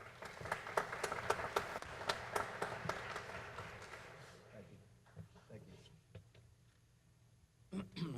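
Audience applause at a school moving-on ceremony, a dense run of overlapping claps that fades out midway, leaving scattered taps, shuffling and light room noise with voices underneath.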